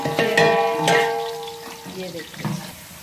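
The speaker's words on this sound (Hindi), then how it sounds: "ये देखें, ये प्याज हमारे ब्राउन हो जाते हैं, ठीक है।" Onions frying in ghee until brown, a continuous sizzle broken by several clanking stirs of a utensil against the metal pot and a sustained ringing tone.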